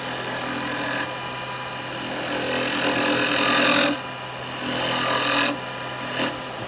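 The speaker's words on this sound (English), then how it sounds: "And we'll go for a bit of hollowing." A wood lathe spins up to speed while a carbide chisel hollows out a three-cornered lidded box, giving a steady whirring, scraping drone that shifts in intensity as the tool cuts, with brief pauses between passes.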